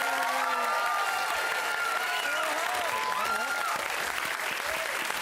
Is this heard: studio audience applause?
yes